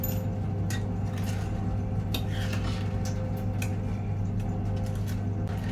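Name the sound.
spoon stirring sugar chutney mixture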